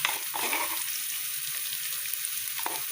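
Garlic sizzles as it hits golden-brown frying onions in a pan, a loud, continuous crackling hiss close up with a few brief stirring clicks and no talking.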